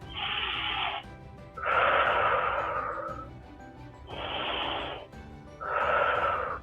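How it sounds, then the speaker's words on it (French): Four long, deep breaths during a calm upper-body strengthening workout, each inhale through the nose and exhale out through the mouth, loud and close with brief pauses between them and no talking. "respirez tranquillement par le nez et soufflez par la bouche. Allez, encore 2 grandes respirations."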